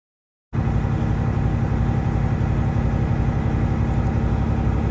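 A truck with a Detroit Series 60 engine runs steadily while pumping up its air tanks, a close, constant low rumbling drone starting abruptly after a brief silence, with no talk.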